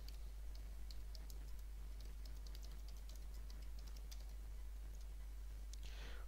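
Rapid, light clicking of computer keyboard keys as commands are typed, heard faintly in irregular bursts over a low steady hum, with a soft rustle at the end.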